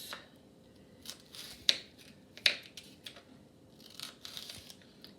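A knife cuts vegetables into small pieces on a cutting board for Polynesian meatballs. There are faint, scattered crisp chopping taps, with two sharper cuts standing out near the middle.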